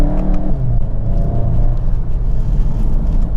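A Volkswagen Golf GTI TCR engine drones loudly from inside the car, a dense low rumble with a brief shift in pitch early on, partly synthesized-sounding, steady throughout with no talking.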